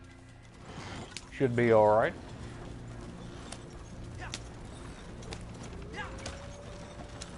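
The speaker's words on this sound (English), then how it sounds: "This is the world's worst horse and carriage." In a video game, a horse-drawn carriage rolls along with hoofbeats and creaking, rattling wheel mechanisms. A loud tonal whine swells briefly early on. Someone speaks a short phrase over the steady background rumble.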